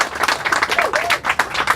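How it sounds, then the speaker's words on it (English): Crowd applauding at the outdoor RVA Bike Share launch on a rainy day in Richmond, a brief burst of scattered clapping with a voice talking over part of it. "Today we are launching RVA Bike Share. That's a round of applause"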